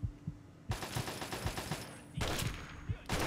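Gunfire in the video game Fallout 3 sounds as loud bursts of rapid shots that come in two long volleys and break off between them, with thumping low impacts underneath.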